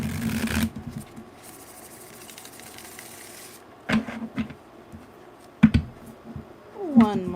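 A deck of tarot cards shuffled in a close riffle at the opening, followed by sparse taps and flicks of cards being handled, quiet and near with no talking.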